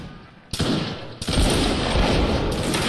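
Musket volleys in the Napoleonic Wars multiplayer game: two sharp, loud massed volleys crack out in quick succession and roll into a sustained crackling barrage of scattered shots and echoing rumble, dense and close with no voices.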